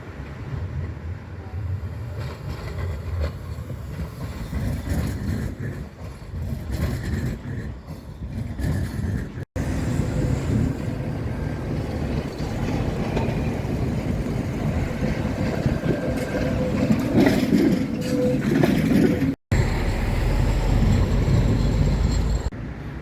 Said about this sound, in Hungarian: Szófiai villamos körkép